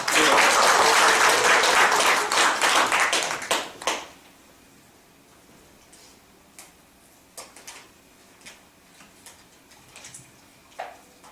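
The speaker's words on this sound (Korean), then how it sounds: "박수 한번 드리겠습니다." An audience at a Korean academic society lecture on software technology gives loud, dense applause that fades out after about four seconds, followed by scattered single claps and light knocks in a quiet room.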